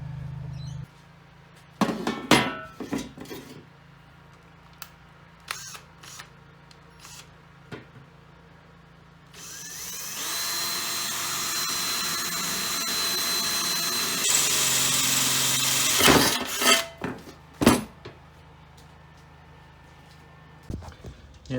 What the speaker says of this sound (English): we might have to just drill a hole